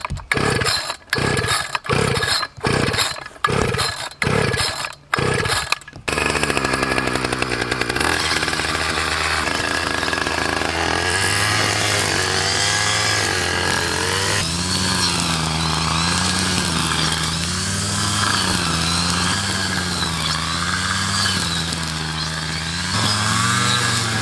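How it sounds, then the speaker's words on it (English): A gas weed whacker cutting the tops of ragweed: about six sharp bursts as it is pull-started, then the engine catches and buzzes loudly and continuously, its pitch rising and falling as it revs. "I'm gonna weed whack a little bit. Just the tops of these ragweed so it doesn't choke out the clover."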